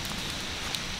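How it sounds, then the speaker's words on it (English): Steady rain setting in over a cleared woodland building site late in the day, a soft continuous hiss of drops with no voices, even and moderately quiet throughout. "the rain's starting to set in"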